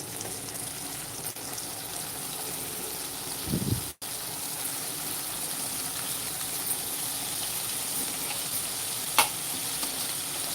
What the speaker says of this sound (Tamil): இப்போ இந்த மசாலாவில் இந்த கீரையை நம்ம சேர்த்துக்கலாம்